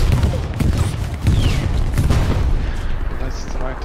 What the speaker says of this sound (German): Die Artillerie war immer so übel.